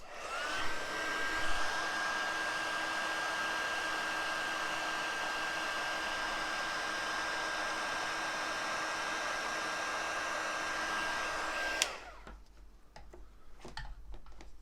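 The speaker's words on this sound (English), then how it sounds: "Pop that to one side, and we're just final heat set this." Embossing heat tool blowing steadily over powder on a Christmas card, a loud continuous whirring hiss with a thin whine, running nearly twelve seconds before cutting off abruptly, leaving faint clicks and handling noises.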